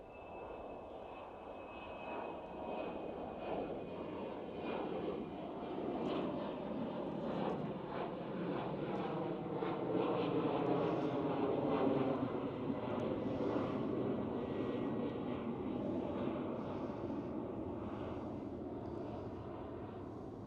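A British Airways CityFlyer Embraer E190 jet at Schiphol gives a distant engine whine and rumble that swells gradually to a peak near the middle, then eases off slowly, with no voices.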